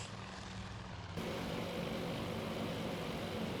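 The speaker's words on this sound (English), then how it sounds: "you hear the engines accelerating, and from circling to en route" Video game aircraft engines drone steadily, then swell abruptly louder into a dense, roaring hum that holds without pause.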